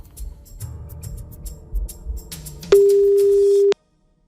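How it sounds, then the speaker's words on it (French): A telephone ringing tone sounds while a radio host calls a listener live on air, one steady loud beep lasting about a second after low studio noise and rustling, then silence. "C'est bon, ça sonne."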